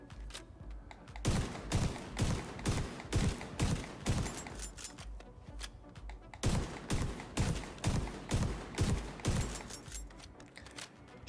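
Rapid gunfire in the video game The Division 2 rings out as evenly spaced loud blasts, in two long runs with a short break between them, close and punchy.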